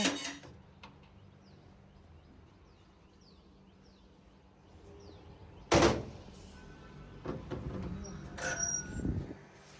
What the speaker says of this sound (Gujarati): દરવાજો શાંતિથી ખોલવો પડશે